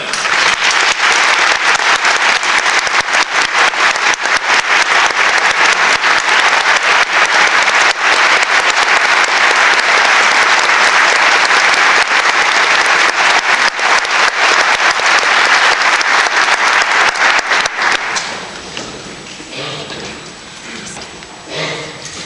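A concert audience applauds a symphonic honor band and its conductor with a steady, dense roar of clapping that holds for most of the stretch and then thins and fades near the end.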